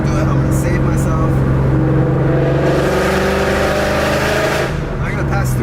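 A car engine revs steadily up to about 3,000 RPM then shifts, a loud droning in-cabin tone that rises, dips at the gear change and picks up again, with people talking over it.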